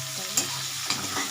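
Three thinly sliced onions frying over raised gas heat in a pan for Bengali chicken curry, a steady close sizzle with two sharp spatula scrapes of stirring.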